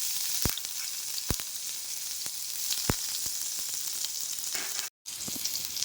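Chopped ginger and garlic frying in hot oil, a close, steady hissing sizzle with a few sharp crackles and pops, then a brief cut-out near the end.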